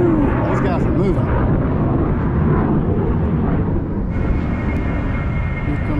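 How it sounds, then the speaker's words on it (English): A commercial airliner flies low near Myrtle Beach Airport over a state park campground, a loud, broad, steady roar filling the whole stretch, with people talking under it. "Here comes a commercial plane."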